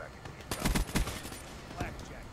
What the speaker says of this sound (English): I'd say that's a revenge shot.